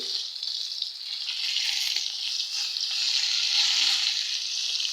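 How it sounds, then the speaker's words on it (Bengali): Hot oil hisses continuously as fish and potatoes fry together in a pan, a bright, even sizzle close by with faint occasional pops and no talking. "এই যে আমি মাছটা ভাজা নিতেছি"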